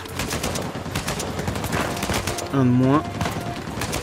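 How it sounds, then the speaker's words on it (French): Automatic machine gun fire in Uncharted 4, rapid bursts of shots rattling under and around someone talking in French, with a short held tone near the end. "Non, ça c'est la mitrailleuse."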